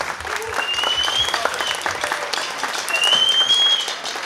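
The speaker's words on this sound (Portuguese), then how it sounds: "Palmas para as nossas doações aí." Crowd applause for donations at a Brazilian June festival arraiá, a dense, steady clapping that swells toward the end, with some voices mixed in.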